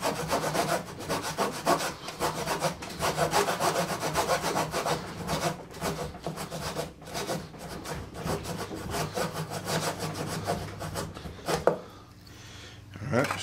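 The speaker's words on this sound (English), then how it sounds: "I have to remember to keep my saw tilted over because this is a dovetail" A hand saw rips through a wooden dovetail joint for a pedestal table in steady, rhythmic push-pull rasping strokes, close and fairly loud, with a brief sound of handling at the end.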